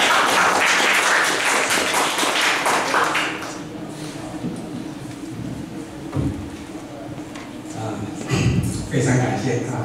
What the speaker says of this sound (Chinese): 热烈掌声欢迎